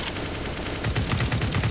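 Rapid gunfire in the video game Counter-Strike on the Inferno map, a quick burst of repeated shots that gets heavier toward the end, loud and close with no talk.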